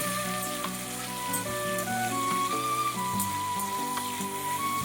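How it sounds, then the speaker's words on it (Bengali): Tomato frying in oil in a pan while a vegetarian potol teil jhal is prepared, giving a steady close sizzle with soft crackles throughout and no talk. "ভালো করে টমেটোটি আমার ভাজা হয়ে গিয়েছে।"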